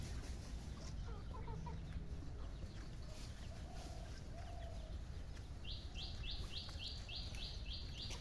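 Village chickens cluck and call outdoors on a rural morning, with a run of quick high chirps near the end, steady and moderately close over constant background noise.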